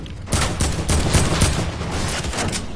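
Gunfire in a PS4 video game: a loud burst of rapid repeated shots over about two seconds, with sharp cracks standing out in a dense fusillade.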